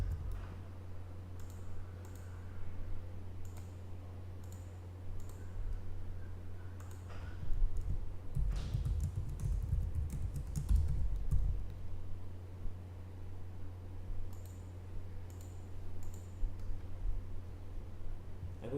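Someone types out Maximo automation script code on a computer keyboard, making soft, quick bursts of key clicks separated by short pauses over a low, steady electrical hum, with no talking.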